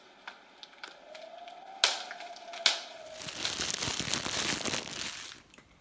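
A plastic bag is crinkled and crushed by hand to imitate a crackling fire, giving sharp irregular crackles and snaps that build into a dense continuous rustle, loud and close.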